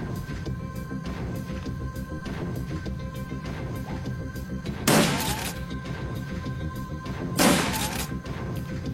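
Two booming shotgun blasts in a video game, a few seconds apart and loud over a busy, throbbing game soundscape, with no one speaking.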